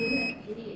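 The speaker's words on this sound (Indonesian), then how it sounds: "Dan tadi ada bunyi buzzer." A TENS electrostimulator therapy unit sounds a short, high, steady buzzer beep as it switches on. A voice murmurs beneath it.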